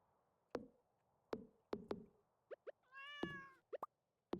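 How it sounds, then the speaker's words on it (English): A cat in Stardew Valley lets out a loud, harmonic meow amid several sharp plopping and tapping game sounds, all crisp and close against silence. "Meow. Loud ass cat. Meow."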